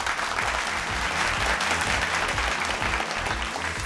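A studio audience at a televised school quiz bursts into steady, dense applause after a correct answer, loud and close, sustained evenly throughout.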